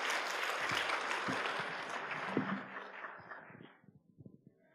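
Church youth audience applauds a young speaker: a burst of loud, dense clapping that gradually thins and fades to a few scattered claps.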